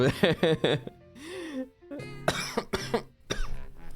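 A burst of several harsh coughs, close and loud, with breathy vocal sounds and a throat-clearing rasp between them.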